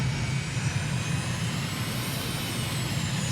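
A steady aircraft engine hums and whines on the ground before takeoff in Microsoft Flight Simulator, a constant droning rumble with faint high tonal whine and no talk.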